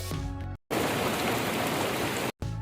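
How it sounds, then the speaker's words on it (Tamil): A light drizzle falls in Tiruppathur on pilgrims walking to Palani, a steady soft hiss of rain lasting under two seconds, framed by short bursts of other sound before and after. "லேசான சாரல் மழை பெய்ய ஆரம்பித்தது"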